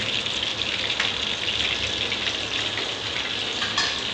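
Bay leaves drop into hot oil, giving a dense, steady sizzle and crackle that fills the clip close up, with a few brighter pops and no talk.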